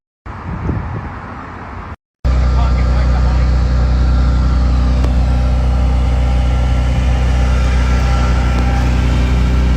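After a brief cut, a Rimac Nevera electric hypercar of nearly 2,000 horsepower sends out a loud, steady, continuous rushing roar at high speed, close and unbroken.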